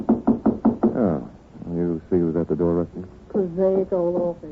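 Knocking at a door in an old office setting for a 1940s radio drama, a quick run of about five sharp raps near the start, followed by people talking.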